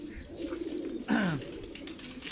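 A mottled-coloured female pigeon of an old Italian breed gives a single rolling coo, close and clear against faint background noise.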